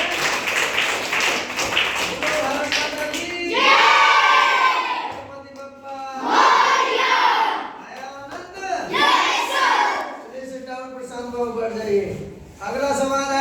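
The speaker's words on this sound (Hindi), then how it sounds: "प्रशांत के लिए जोरदार ताली बजाइए" Classroom of students clapping for a classmate, several bursts of loud rhythmic group clapping mixed with children's shouts and cheering, between stretches of talk.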